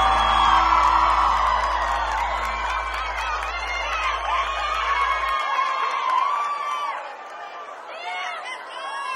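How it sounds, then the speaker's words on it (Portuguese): A concert crowd applauding a guitarist, whooping and cheering loudly and continuously, with shouts and whistles rising over a dense wash of clapping; a sustained musical tone underneath fades out midway. "Uma salva de palmas, Marcos Mioto!"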